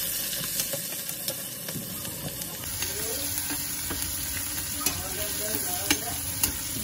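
Shallots and spice paste frying and being stirred in a hot pan for an Indian-style leek dish, a steady sizzle with scraping stir strokes and a few clicks of utensil on pan, no talk.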